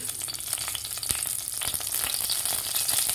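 Oil heats in a pressure cooker set up for kadhi khichdi, giving a steady, close sizzle with faint crackles and occasional small pops throughout, with no talking.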